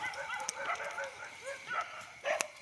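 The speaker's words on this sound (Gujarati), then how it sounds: "કૂતરો ભસી દે" A dog gives a few short barks and yelps, moderately close but not loud, spaced irregularly through an otherwise quiet outdoor scene.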